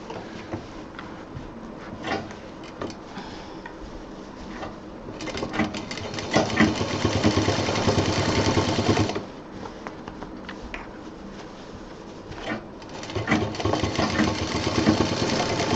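A sewing machine runs in bursts while stitching the edge seam of a fabric college bag, with short runs and pauses, then a longer steady stretch of close, moderately loud whirring.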